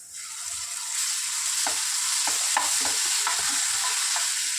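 Ginger garlic paste frying in a pan after onion has browned, a steady loud sizzle with a series of small scraping stirs near the middle, close and without speech.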